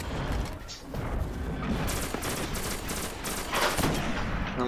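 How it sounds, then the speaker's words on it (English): Rapid, dense gunfire from a sniper rifle and other weapons in the Destiny video game, loud bursts and booming impacts overlapping in near-continuous fusillade without clear pauses. "This sniper I have, each time it does a shot, it does 300 damage to his leg."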